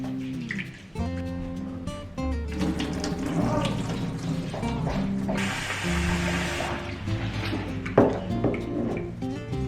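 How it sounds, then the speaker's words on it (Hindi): Idli rice and urad dal being washed in a kitchen sink under running tap water, a steady splash and trickle lasting throughout with a few sharper knocks near the end, over a background of tonal music. "इसको मैं 3 से 4 बार बहुत अच्छे से वॉश करती हूँ जब तक पानी क्लीन ना दिखाई देना स्टार्ट हो जाए"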